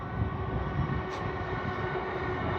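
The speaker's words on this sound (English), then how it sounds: "There's trains underneath us over this side" A train rumbles past at a moderate distance in London, a continuous low mechanical roar with steady rolling noise and a faint tonal hum.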